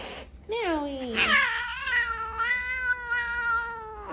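A cat meows in long, drawn-out, rising and falling cries, loud and close, one continuous wail lasting several seconds.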